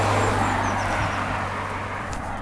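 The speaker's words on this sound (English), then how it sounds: "stupid cars making noise in my vlog" Cars pass along a street in Reigate, a continuous broadband road rumble with a low engine hum, loud and close, slowly easing as the traffic moves by.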